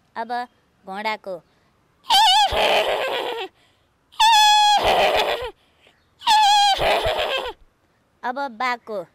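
A woman imitates a horse with three loud, drawn-out whinnying cries spaced a couple of seconds apart, framed by short harmonic vocal bursts before and after.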